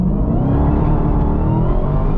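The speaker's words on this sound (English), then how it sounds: "I didn't give you guys at least one pull in the Dodge Demon during this video" A Dodge Demon accelerates hard in a driveway-style race, its engine roaring loud and close with a steady, dense growl that holds for the full stretch without a break.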